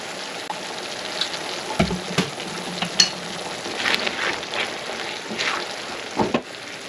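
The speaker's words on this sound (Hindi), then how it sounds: "दो से 3 मिनट के लिए मैं सब्जियों के साथ इसको पकाऊंगी।" Chopped tomato, capsicum and onion frying with chicken and a spoonful of soy sauce in a pan, giving a steady close sizzle with scattered scraping stirs and clinks throughout.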